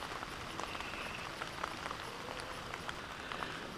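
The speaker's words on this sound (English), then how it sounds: "Still getting soaking wet, folks. Still raining." Rain falls steadily outdoors during a hunt, a faint continuous patter with scattered drop ticks across a soft wash, no voices.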